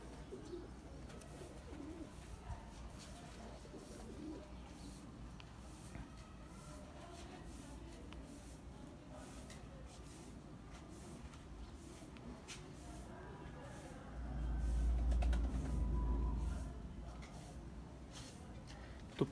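Breeder pigeons coo softly in a quiet loft, low murmuring calls continuing throughout, with a brief louder rustling burst near the end.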